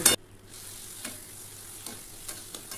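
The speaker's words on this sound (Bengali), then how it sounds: "দিয়ে এবার আমাকে খুব ভালো করে কষতে হবে, খুবই ভালো করে কষে যেতে হবে।" Spice paste for a dhaba-style brinjal curry fries in a pan with a soft, continuous sizzle, a sharp clatter at the start and a few faint stirring scrapes after, no voices.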